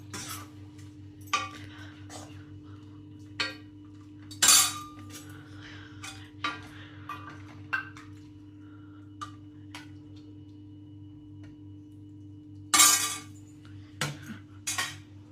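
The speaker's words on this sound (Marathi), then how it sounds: "थोडीशी कोथिंबीर खलबत्त्यात कुटून" Coriander pounded in a mortar and pestle: sparse, irregular sharp knocks and clinks, some louder than others, over a quiet low hum.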